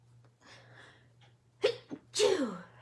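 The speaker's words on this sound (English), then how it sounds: "I'm gonna sneeze." A few soft breathy intakes build up, then a sharp sneeze and a louder second sneeze burst out close by, with a low steady hum underneath.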